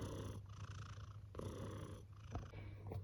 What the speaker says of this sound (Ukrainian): така муркотуня.